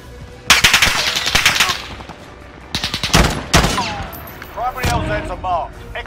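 Rapid bursts of M16 rifle fire in the shooter game Warzone, several loud automatic volleys of sharp repeated cracks separated by short gaps, with game sound effects between them.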